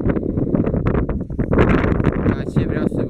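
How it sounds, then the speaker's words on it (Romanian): Strong wind buffets the microphone on a mountain in the Codru Moma range, a loud, continuous rushing roar with a voice talking beneath it. "Bate vântul rău, nu știu dacă mă mai auziți de vânt."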